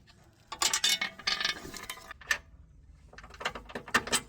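Metallic clicks and clinks of a wrench working the 18mm bolt at the rear of a Nissan Leaf subframe during a lower suspension control arm replacement, arriving in irregular bursts of ratcheting with brief pauses between them.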